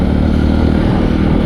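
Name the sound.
Yezdi Roadster motorcycle accelerating in third gear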